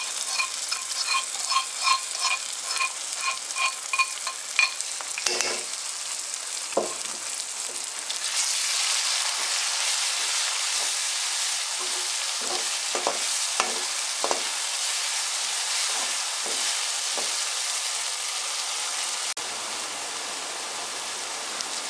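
Garlic ginger paste stirred into browned onions frying in a pot, a constant loud sizzle broken by scraping spoon strokes, with no talking.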